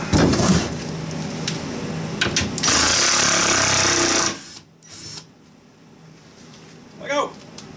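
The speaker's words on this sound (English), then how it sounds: "Now we can take these screws out" A power tool whirs loudly for several seconds while backing screws out of a wooden frame, then cuts off, leaving quieter handling noises and brief talk.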